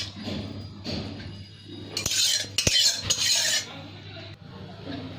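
A spoon stirs sardine curry with coriander leaves and ground cumin in a pot, giving a few soft scraping stirs and a cluster of sharp metal clinks and knocks against the vessel.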